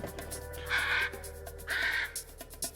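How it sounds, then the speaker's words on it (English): Crows cawing, two loud harsh caws about a second apart followed by fainter calls, over a steady low background hum. "The birds."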